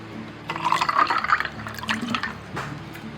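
Pineapple juice is poured over ice cubes in a kitchen, a short splashing, gurgling stream of liquid filling a glass, fairly close and with no talk.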